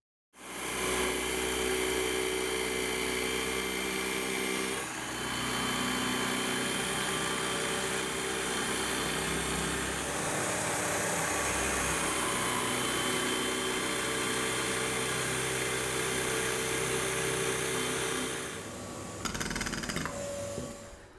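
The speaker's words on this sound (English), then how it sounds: "this is going to involve the return of the world's worst pillar drill and the router" A pillar drill fitted with Forstner bits bores into a Les Paul guitar body to cut the neck pocket. It gives a loud, steady, high-pitched whine that runs almost without a break and cuts off near the end.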